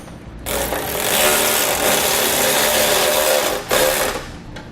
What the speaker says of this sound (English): We can go ahead and tighten the other side as well.